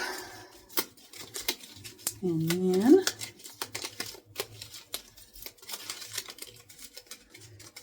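A deck of homemade game cards gets shuffled up close, a long run of quick papery flicks and ticks with a denser riffle burst near the middle, while a voice talks briefly over it.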